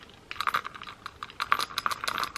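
Loose coins clinking and jingling in a small Louis Vuitton key pouch, a cluster of light metallic taps close by, coming in two short bursts.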